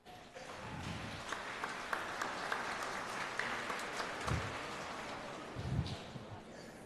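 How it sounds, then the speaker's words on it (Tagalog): A church congregation applauding during a homily, a continuous spread of clapping heard from some distance, fairly even over about seven seconds, with faint low murmurs of voices underneath. "Pumalakpak ng malakas."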